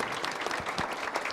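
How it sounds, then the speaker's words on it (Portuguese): Studio audience applauding a guest on a television debate program, a steady wash of clapping at moderate, somewhat distant volume across the whole moment. "Receba os nossos aplausos."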